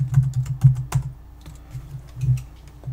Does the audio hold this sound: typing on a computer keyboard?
yes